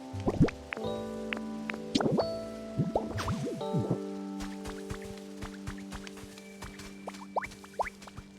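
Water splashes and drips in the video game Pokémon Pokopia, a series of watery plops and trickles mixed with chiming game tones, bursting early and then thinning into scattered drops.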